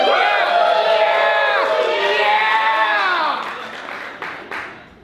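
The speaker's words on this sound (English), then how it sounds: "let's all cheer." A crowd in a class setting cheers, whoops and applauds loudly and continuously, with children's shouts mixed in, then the noise tapers off toward the end.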